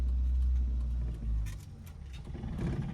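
Close, deep rumble of a car engine given light throttle as the clutch is slowly let out during a driving lesson, the low drone dipping briefly then swelling again; no one speaks.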